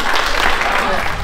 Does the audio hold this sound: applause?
yes